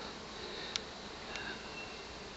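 Honey bees buzz around a hive box set up for a trap out at a cabin in Gatlinburg, a faint steady hum with a couple of brief closer passes, no talking.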